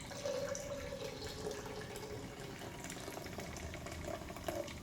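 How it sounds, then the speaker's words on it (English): Sodium thiosulfate solution is poured into iodine water, a faint, steady liquid trickle lasting several seconds with no voices. "I'm just going to pour a little bit in here"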